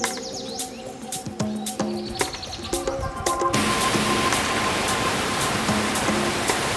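A large Costa Rica rainforest waterfall roars as a steady loud broadband rush, rising fuller halfway through, with birds chirping and twittering over it in the first half.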